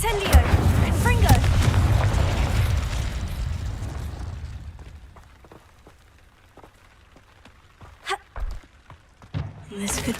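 Spells crackle and burst in Hogwarts Legacy, the wizarding video game: a loud, booming blast up front gives way to quieter stretches and a few sharp pops near the end, with a voice calling out over the effects.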